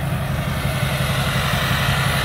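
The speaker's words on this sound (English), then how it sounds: "four inch MBRP exhaust and it sounds phenomenal" A 2004 GMC Sierra 2500 Duramax LLY diesel with a four-inch MBRP exhaust idles close by, giving a steady, deep, throbbing rumble with a continuous low pulse and no talk over it.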